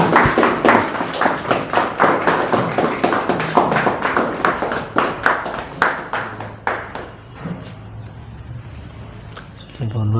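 An audience claps in welcome for a man named Ali at a Voltas service centre job selection event, a burst of sharp, rhythmic hand claps that fades out in the final seconds.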